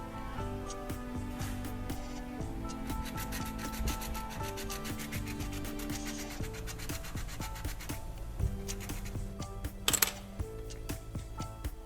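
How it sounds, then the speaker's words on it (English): A pencil's graphite tip is rubbed against sandpaper to scrape off powder for repairing LED bulbs. A steady, close scratchy rubbing continues throughout, partly masked by background music. "The graphite tip will be rubbed against the sandpaper to get some powder."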